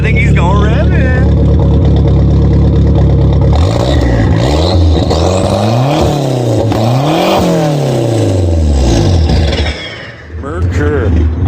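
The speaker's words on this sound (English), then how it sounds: "I think he's going rev it." A Merkur XR4Ti engine with a Ford Racing setup idles loudly, then revs hard several times in rising and falling sweeps before settling back, close to the microphone.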